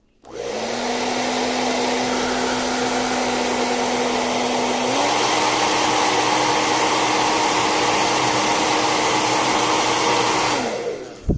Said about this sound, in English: I'm just going to hold the hairdryer on it for longer.